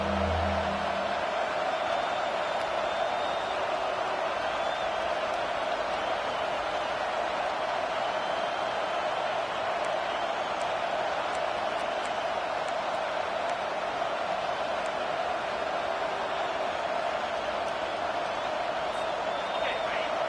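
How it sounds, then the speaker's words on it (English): Stadium crowd noise from the NCAA 25 college football video game rolls on as a steady, dense roar for the whole stretch, a constant wash of massed voices with a sustained tone running through it. "Decibels rising as the crowd gets behind this defense on third down."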